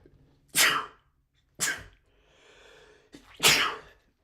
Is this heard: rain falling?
no